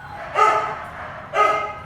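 Dogs in animal shelter cages bark, two distinct barks separated by a short pause, fairly close and moderately loud over a faint background hum.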